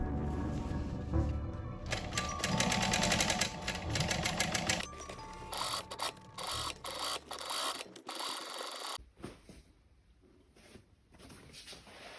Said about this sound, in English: I'm stitching it up.